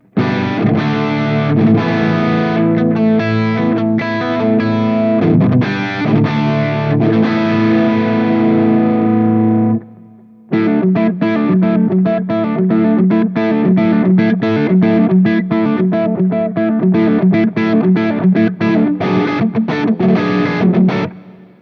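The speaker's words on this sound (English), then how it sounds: "my Friedman BE100 Deluxe is used for the mid-gain sound." An electric guitar plays through a Friedman BE100 Deluxe amp set for a mid-gain tone. The crunchy, distorted chords and riffs run continuously, break off briefly near the middle, then resume and play on to the end.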